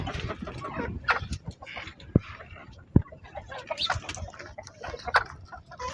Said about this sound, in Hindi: ये हमारे देसी के बर्ड्स है, देसी के मुर्गे और मुर्गियाँ।